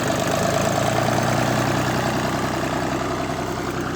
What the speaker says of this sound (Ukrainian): Вона на холостому їде, ти чуєш чи ні?